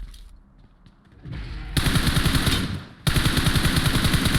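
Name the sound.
MG3 machine gun fire in a video game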